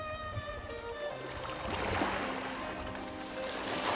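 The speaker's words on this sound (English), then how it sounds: "The calming waves," Calm ocean waves wash at Port Royal, Jamaica, a steady soft rushing surge under sustained music-like tones, growing slightly fuller toward the end with no voices.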